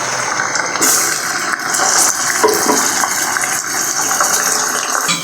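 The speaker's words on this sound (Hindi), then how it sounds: "तो अभी ये फिश को अच्छे तरीके से मैं फ्राई कर लूँ" Fish fries in hot oil in a karahi, giving a steady, dense, loud sizzling hiss that runs unbroken throughout with no talking.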